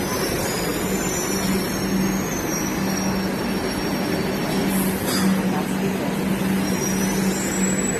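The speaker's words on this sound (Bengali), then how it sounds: "মেট্রো চলে এসেছে।" Metro train arriving at a station, a loud steady rumble of wheels and motors with a faint high squeal of wheels and brakes over it, close and continuous.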